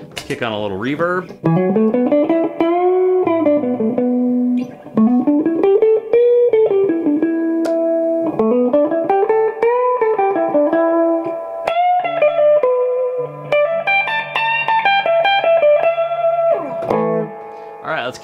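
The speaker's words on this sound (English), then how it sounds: "Kick on a little reverb." A clean electric guitar through a Hiwatt Crunch 50 combo amp, neck pickup, plays smooth melodic phrases with a lush reverb tail, loud and sustained, notes ringing and overlapping.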